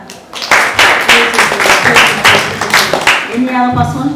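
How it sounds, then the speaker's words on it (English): Children at a junior school clap for a classmate with close, loud, rhythmic claps in a steady beat. A voice starts speaking near the end. "Wow, clap for her."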